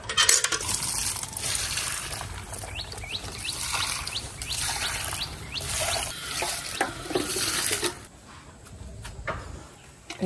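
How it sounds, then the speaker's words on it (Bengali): Water poured over potted garden plants, a steady close splashing and trickling stream running for several seconds, then tapering off near the end, with no voices. "গাছগুলোতে একটু জল দেব।"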